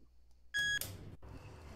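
A short, loud electronic elevator alarm beep in Roblox sounds once, followed by a brief burst of noise and a low, steady hum.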